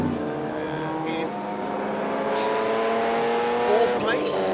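1950s race cars compete for the Woodcote Trophy at Silverstone, their engines roaring close with shifting pitch as they pass, tyres briefly squealing, under a commentator's voice.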